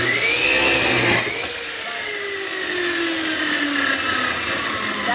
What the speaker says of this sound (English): my saw, of course, is going to be extremely noisy